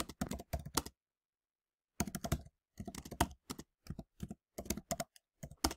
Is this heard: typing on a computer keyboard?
yes